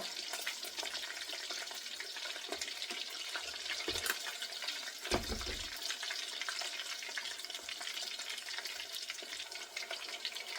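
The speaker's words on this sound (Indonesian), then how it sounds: "lagi goreng ayam buat Heidi." Chicken sizzles and crackles steadily as it fries in hot oil in a pan, close up, with a few soft knocks of the pan or a utensil partway through.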